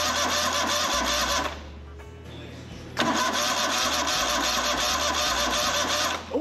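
A Kohler CH25S twin-cylinder engine from a Grasshopper zero-turn mower cranks on a 12-volt boost, the starter churning loudly and steadily, pausing for about a second, then cranking hard again.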